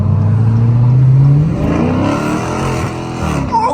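A heavily cammed Camaro's engine revs hard in traffic, loud and close, rising in pitch then dropping and settling into a lumpy rumble with other vehicles around.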